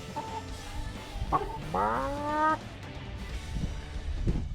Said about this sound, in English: Chicken came to say hi.